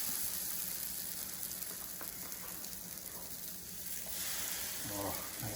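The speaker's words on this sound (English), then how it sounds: "Oh, nice sizzle right there." Vegan Salvadoran pupusa with cooked beans inside sizzling steadily in a hot pan, a continuous close frying hiss throughout with a few brief voiced sounds near the end.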